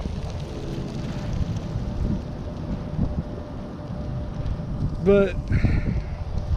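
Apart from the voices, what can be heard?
wind blowing on the microphone at a cemetery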